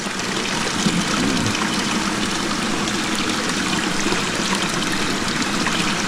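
Water runs continuously to supply a garden, a loud, close, steady rushing trickle that holds unbroken throughout with no speech.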